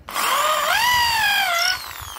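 An electric drill fitted with an HSS bit bores into wood, giving a loud, steady whine that rises in pitch, holds, then drops away near the end as the bit breaks through, with no talk.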